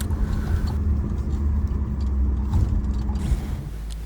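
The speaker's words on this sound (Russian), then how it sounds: "Технике было сложно преодолеть снежные заносы." Off-road expedition vehicles grind through deep snow drifts on a mountain range, a steady, close low engine rumble with mechanical strain that holds throughout, with no talking.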